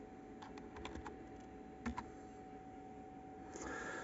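Quiet key presses on a computer keyboard at an HP Compaq dc7700 workstation, a short run of light clicks followed by two sharper taps and a faint hum, typed at close range with no talking.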